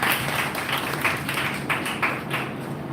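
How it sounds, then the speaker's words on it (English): Audience applause at a school celebration for Ambedkar Jayanti, a steady moderately loud patter of many hands clapping in a hall. "I would like a round of applause for the father of Indian Constitution."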